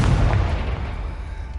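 Confringo explosive spell blast in Hogwarts Legacy, a loud booming burst at the start that rumbles and slowly fades over a second and a half, with no talking.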